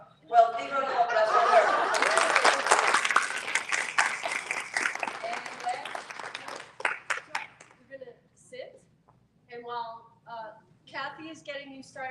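Audience at a therapeutic humor conference claps and cheers for a social therapy presenter, a broad burst of applause that swells for several seconds before dwindling into scattered claps under continued talking.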